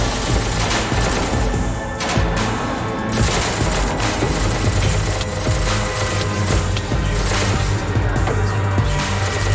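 Dense, continuous automatic gunfire from a Minecraft SCP game, a loud steady rattle of rapid shots filling the whole stretch with occasional heavier crashes and no voices over it.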